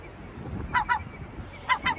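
Large seagulls calling on the waterfront in Portland, Maine, with two pairs of loud honking cries, one just before the midpoint and another near the end, over a steady outdoor background.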